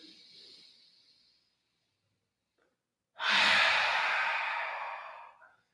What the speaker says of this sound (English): Take a deep breath in. Open your mouth side out.